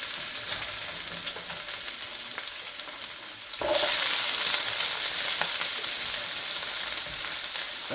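Costco chicken yakisoba with vegetables sizzles steadily in a pan over heat lowered from medium, a dense close hiss that jumps louder partway through as more food goes in, with faint stirring scrapes and no talking.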